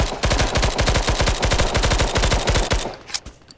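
A rapid burst of automatic gunfire from the online shooter game Bullet Force rattles loudly and continuously for about three seconds before cutting off.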